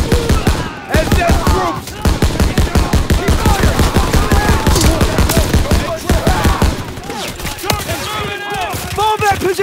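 Heavy gunfire in a Call of Duty WWII battle, with rapid automatic bursts and rattling volleys running almost nonstop, loud and close, while soldiers shout over the shooting.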